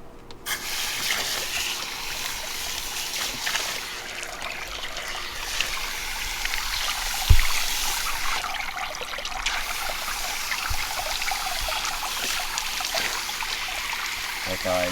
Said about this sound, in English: We're here to rinse out another t-shirt for you.